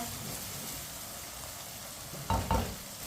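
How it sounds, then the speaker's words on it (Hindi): Tomatoes sizzle and fry over a high flame in a pan for matar chicken, a steady crackling hiss with a couple of louder stirring scrapes near the end, no voices. "टमाटर को 3 मिनट के लिए मैंने पका लिया है तेज आंच पर।"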